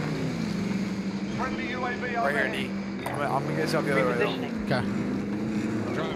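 A vehicle engine drones steadily in a video game with a low, constant hum under a player's voice, which speaks briefly over it throughout.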